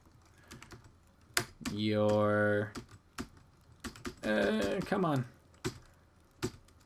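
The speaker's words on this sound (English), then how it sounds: "let's see if my keyboard will work for me" Typing on a computer keyboard, a steady patter of close clicking keystrokes running throughout, with a person speaking briefly over it.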